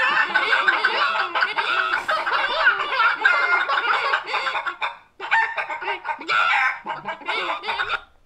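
Chickens cluck and squawk in a dense, continuous chorus from a Family Guy cartoon, loud and busy, with a brief break before the clucking resumes.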